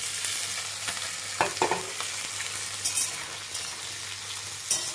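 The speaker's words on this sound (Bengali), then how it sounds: "আলু পেঁয়াজটা দিয়ে সুন্দর করে ভেজে নেব।" Potatoes and onions fry with nigella seeds in oil, a steady close sizzle broken by a few scraping stirs and light clinks of a spatula against the pan.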